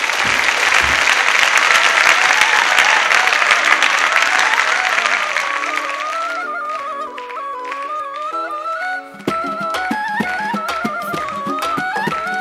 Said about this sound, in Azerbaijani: Alqışlarınızla başladın.